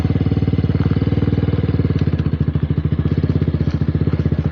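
A motorcycle engine, close and loud, runs with a steady fast thumping idle after being started and put into first gear on a slippery road before a stunt.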